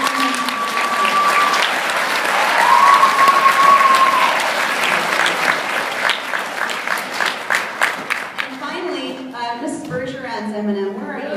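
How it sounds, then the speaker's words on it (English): Audience at a school celebration bursting into sustained clapping that swells, holds, then tapers off into scattered claps as people start talking. "So let's give a round of applause to Mrs. Johnson."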